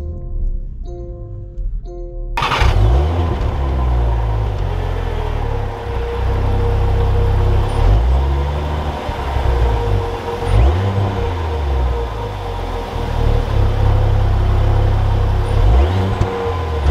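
A 2021 Range Rover Velar R-Dynamic HSE gets underway. Its engine starts with a sharp onset, then a loud, close cabin rumble rises and falls through several gear changes as the SUV accelerates.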